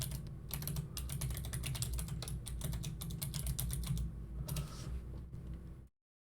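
Login details go in on a computer keyboard as fast, close clicking keystrokes come in steady bursts with short pauses, then stop abruptly into silence.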